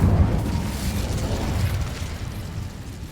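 Incendio fire spell cast in Hogwarts Legacy, a sustained roaring whoosh of flame that is loudest at the start and then burns on steadily without breaks.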